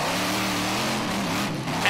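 An Australian monster truck engine roars hard at full revs as the truck launches into a jump, a loud, continuous, close growl that holds steady for the whole moment.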